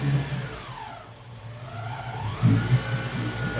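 A Yamaha F150 outboard engine runs at 2,100 RPM with a steady low hum and a faint whirring whine that rises and falls, then throbs more strongly near the end.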